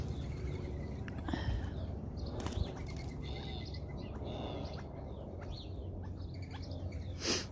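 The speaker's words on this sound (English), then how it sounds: "oh, we have sparrows." Sparrows chirp outdoors in cold, windy weather, with several short high calls scattered over a steady wind rush and some low rumble.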